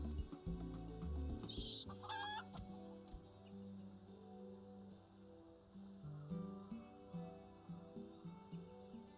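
Chickens cluck and a rooster calls in a Final Fantasy XIV game scene, the bird sounds coming in a brief burst early on over a soft, sustained musical background.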